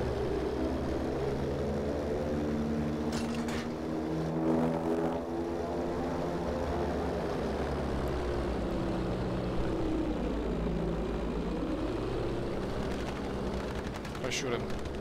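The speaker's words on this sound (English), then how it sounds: "Oh, there's a plane." A propeller plane drones overhead in the video game Battlefield V, its engine pitch sweeping up and down as it passes, with bursts of gunfire and battle noise mixed in throughout.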